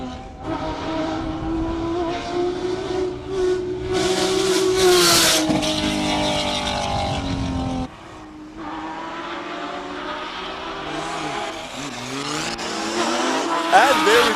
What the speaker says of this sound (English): Right afterwards, we've got the Audi S4. Quattro, turbo, 6-cylinder, and above category.